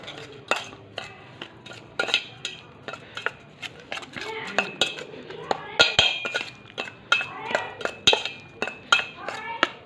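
Spoon or utensil clinks and scrapes repeatedly against a pot or bowl while a red ant egg dish is stirred and mixed, rapid irregular knocks close up, with someone talking over it.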